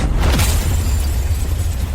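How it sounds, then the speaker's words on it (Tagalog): A car explodes with a loud, rumbling deep boom that opens sharply and then rolls on as a sustained roar with crackling debris, close and filling the whole stretch. "Sumabog ang sasakyan."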